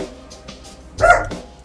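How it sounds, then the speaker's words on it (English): A dog barks once loudly in the background during a game playthrough, a single sharp bark after a stretch of low room noise. "we got some dog action going on in the background, guys"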